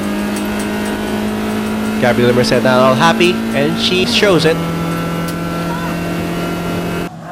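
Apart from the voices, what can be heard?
race cars on track, BF Goodrich Challenge Cup 2003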